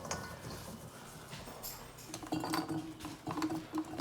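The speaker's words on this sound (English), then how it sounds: "just start filling your jars" Green beans drop through a funnel into hot glass jars with soft, scattered clinks and light patter, faint and close, with no voices.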